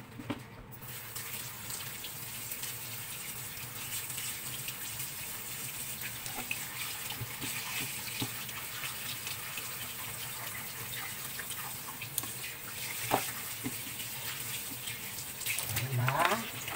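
Tap water runs steadily into a sink while milkfish (bangus) is washed, a continuous close splashing gush with faint handling sounds and a brief voice near the end.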